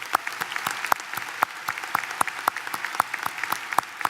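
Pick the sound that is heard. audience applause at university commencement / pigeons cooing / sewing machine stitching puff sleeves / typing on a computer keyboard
audience applause at university commencement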